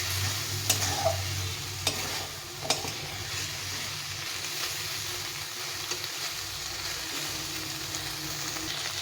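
Boiled chickpeas sizzle and fry steadily in a pan with spices while being stirred, with a few sharp clinks of the spoon against the pan. A continuous low frying hiss, no talking.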